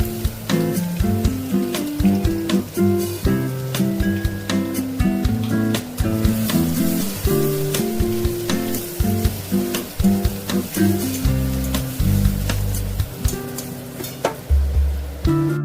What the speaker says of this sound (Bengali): রসুন যে থেতো করে রেখেছিলাম সেটা একটু দিয়ে দেবো।